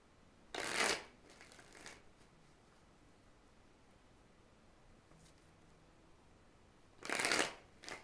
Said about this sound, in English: I gotta shuffle a couple more times